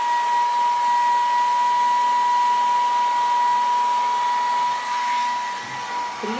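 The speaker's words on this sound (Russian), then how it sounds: "фен и сушу." A hair dryer blows steadily while styling a bob haircut with a round brush, a loud continuous whooshing hiss with a whining tone, shifting slightly near the end as the dryer is moved.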